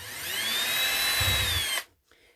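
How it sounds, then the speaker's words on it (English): Power drill with a small bit boring through a clay extruder die form, a steady loud whine that holds for nearly two seconds, then stops abruptly and leaves near silence. "If you had a bigger drill bit, it would be faster"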